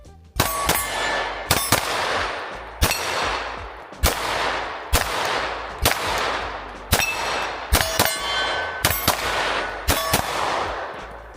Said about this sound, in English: Let's see how well this GlOCK shoots.